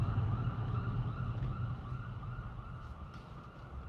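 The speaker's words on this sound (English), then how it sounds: "I hear a siren in the background." A siren wails in the distance, steady and continuous against low background rumble, slowly fading slightly over a few seconds.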